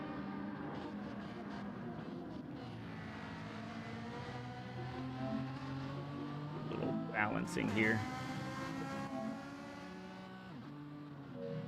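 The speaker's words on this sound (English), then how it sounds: "All these amazing engine sounds going around." Race car engines in Gran Turismo 7 drone and whine steadily throughout, with sustained revving tones and shifting pitch, while a voice talks over them.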